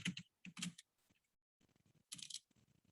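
Bursts of typing on a computer keyboard during a programming demonstration, close and crisp clusters of key clicks separated by brief pauses.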